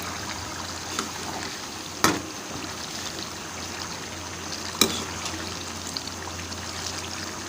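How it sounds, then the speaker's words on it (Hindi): Water trickling steadily into a pot of chana masala, a soft continuous pour heard up close and fairly quiet, with a couple of sharp clinks along the way. "अब इसके अंदर पानी डाल दिया"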